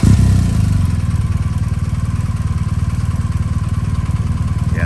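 A motorcycle engine rumbles close by with a steady, pulsing mid-speed note as the bike rides figure eights, a louder surge at the start settling into an even throb.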